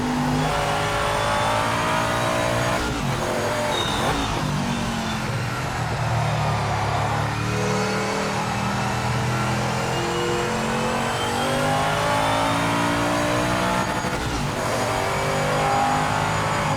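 A race car engine in the Project Motor Racing video game revs hard and continuously, its pitch climbing and dropping through gear changes and braking on a circuit lap, loud and steady throughout with no talking.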